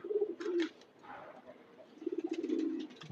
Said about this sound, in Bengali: আমাদের এখানে ব্রিড করা বাচ্চা কবুতর